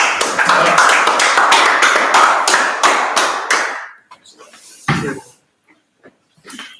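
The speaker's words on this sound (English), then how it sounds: "Let's clap it up." A class claps together for about four seconds, loud, close and rhythmic, then the clapping stops and a few faint scattered sounds follow in near quiet.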